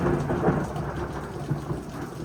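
Outdoor thunderstorm with steady rain hissing on surfaces and low thunder rumbling throughout, a constant dense wash of sound with no voices.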